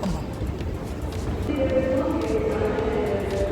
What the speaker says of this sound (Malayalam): അണ്ടർഗ്രൗണ്ട് മെട്രോയിലേക്ക് നമ്മളിങ്ങനെ പോയിക്കൊണ്ടിരിക്കുകയാണ്